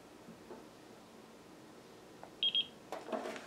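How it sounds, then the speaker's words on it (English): Two short, quiet electronic beeps in quick succession from a DeLonghi oil-filled radiator space heater over faint room noise, followed by soft clicks and handling sounds. "You will see, you will hear 2 beeps."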